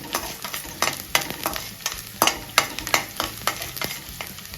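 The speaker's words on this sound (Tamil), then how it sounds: "பூண்டு போட்டு கொஞ்சம் ஃப்ரை ஆனோடனே" Garlic sizzles steadily in hot oil in a pan while a spatula scrapes and taps against the metal in quick irregular strokes, close and loud.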